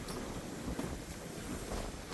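Wind blows hard against the microphone, a constant rough roar with slight gusty swells throughout.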